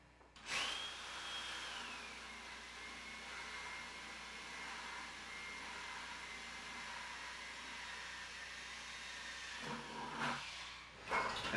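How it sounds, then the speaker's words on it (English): Power drill boring a 3/8-inch hole near the bottom of a 5-gallon plastic bucket, a steady whining run of about eight seconds with a sharp start, close and fairly loud, with brief clatter at the end. "we're going to drill a hole"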